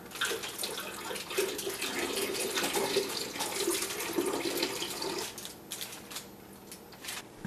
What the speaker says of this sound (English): top off with a little water.